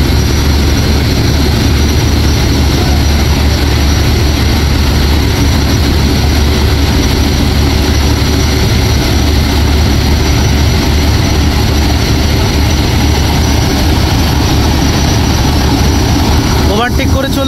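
Passenger launch ships race on the Meghna river, a constant loud, dense engine drone and broadband rushing noise that continues without a break throughout, close and overpowering.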